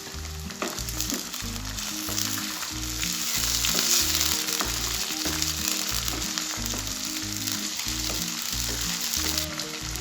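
Half a kilo of meat frying with golden brown onions in a pan for aloo gosht, a continuous dense sizzle with rhythmic stirring knocks and scrapes, close and steady, no talk.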